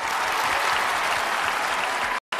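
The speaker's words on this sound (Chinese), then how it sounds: "热烈的掌声送给12位嘉宾" A studio audience at a televised show claps in dense, loud sustained applause that cuts off briefly near the end.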